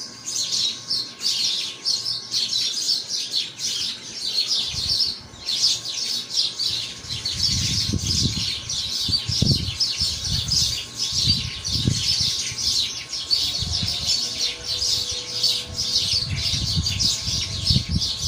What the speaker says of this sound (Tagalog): Ang sarap sa tenga pakinggan yung huni ng mga ibon.